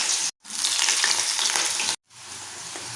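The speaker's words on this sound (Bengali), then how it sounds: "প্রথমে আলু দিয়ে দেবো। আলুগুলো না হলে প্রথমে দিলে ভালো হবে, ভাজা হবে।" Potato pieces fry in hot oil in a pan, a loud continuous hissing sizzle broken twice by brief moments of silence before the crackle picks up again.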